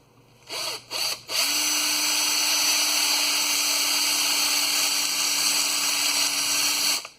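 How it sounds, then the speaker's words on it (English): A power drill with a high-speed steel step bit spins up after a couple of short bursts, then runs steadily at high speed with a sustained whine, close and loud. "It's a high-speed steel drill bit."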